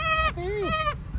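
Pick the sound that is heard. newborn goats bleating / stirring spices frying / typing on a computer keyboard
newborn goats bleating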